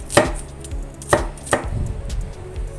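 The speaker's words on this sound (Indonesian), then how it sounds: "ini cabenya juga akan saya iris tipis-tipis ya" A knife slices chili thinly on a board in three sharp, separate cuts roughly a second apart, close and crisp, with a soft shuffle after the last stroke.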